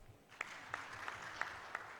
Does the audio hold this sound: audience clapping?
yes